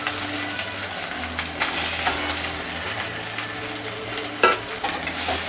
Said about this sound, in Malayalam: എന്നിട്ട് അതൊന്ന് ഇളക്കി യോജിപ്പിക്കാം.